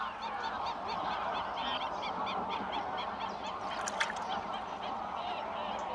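A flock of greylag geese in Doñana National Park, Spain honks continuously at a moderate distance, many overlapping calls forming a steady clamor with a few louder honks near the end.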